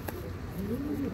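A female Zenaida white-winged dove coos once softly, a brief low murmuring call close by in a quiet setting.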